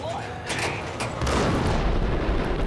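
A big gun fires in Max Payne: several heavy booms come at irregular intervals, then a sustained rumbling barrage builds in the second half, loud and dense, with a voice talking faintly beneath.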